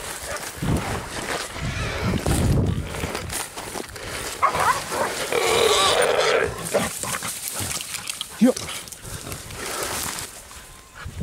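Hunting dogs bay and bark at a wild boar near a creek, a rough, continuous outdoor din of overlapping barks and yelps that swells and fades over several seconds.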